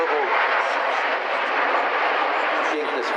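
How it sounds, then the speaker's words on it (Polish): A formation of white-and-red Iskra jet aircraft flies overhead during an air force flypast, giving a loud, sustained broadband roar. "właśnie nad nami formacja biało-czerwonych iskier z flagą narodową"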